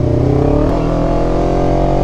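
A Honda CBR250RR motorcycle engine revs hard and close, its high buzzing note climbing steadily and continuously with no voices.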